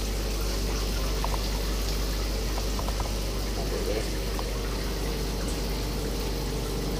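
Continuous running water splashing and trickling as it is poured over Burmese pythons during a bath, a steady close wash with a few small knocks and faint voices in the background.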